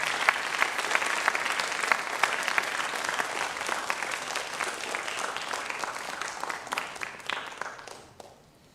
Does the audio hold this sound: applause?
yes